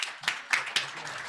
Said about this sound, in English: give a big round of applause for State Treasurer Frerichs